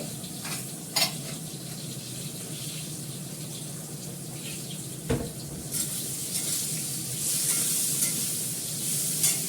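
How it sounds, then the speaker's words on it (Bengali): Tap water runs steadily into a sink as leafy greens are washed, a continuous hiss and splash with occasional knocks and a louder clunk midway, close and even in level. "দেখো আমার এখানে কল খোলা রয়েছে, পুরো ধীরে যাচ্ছে শাক"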